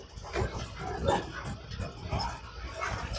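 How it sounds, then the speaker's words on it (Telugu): Dogs bark and whimper in the countryside of a river island, with brief yips close by, mixed in with people talking. "కుక్కలు అయితే బాగా ఎక్కువ ఇక్కడ"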